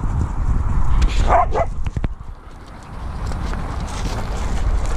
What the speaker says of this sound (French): j'ai fait exprès de sortir Rio pour l'association Wamaka qui a récupéré ce chiot